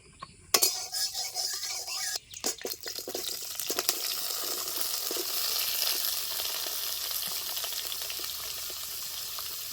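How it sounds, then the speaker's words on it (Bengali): Potatoes frying in hot mustard oil in a wok, a steady loud sizzle that starts after a few sharp clatters and keeps going to the end. "কড়াই গরম হয়ে গেছে, দিয়েছি সরষে তেল। প্রথমে আমি আলুগুলি ভেজে নেব।"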